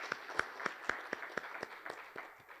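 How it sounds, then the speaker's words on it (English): Sparse applause from a small audience at a professional seminar, a handful of distinct claps in an uneven rhythm that thins out and fades within a few seconds. "A big round of applause for the Sohar members"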